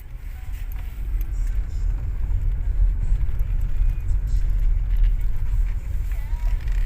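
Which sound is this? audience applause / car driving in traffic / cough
car driving in traffic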